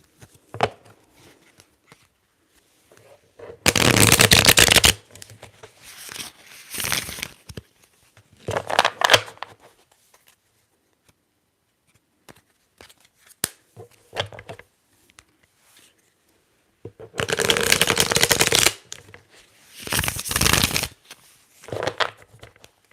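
Tarot cards shuffled in several quick riffling bursts close up, separated by quieter stretches of soft handling and tapping.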